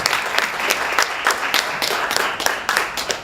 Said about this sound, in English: can I give a big round of applause to Avery, Brian, Gina and Chapman for putting all this together